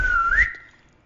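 A person whistles one loud, close rising-then-sliding note, imitating a dad's signalling whistle in a crowd, then it stops abruptly.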